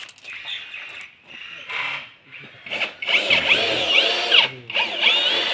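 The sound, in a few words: power drill driving screws into steel fence frame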